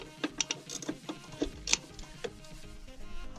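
A wrench works a rusty 10 mm bolt on the negative battery cable of a 2005 Nissan Titan, giving a few close, faint metallic clicks and scrapes in uneven bursts, with no talking.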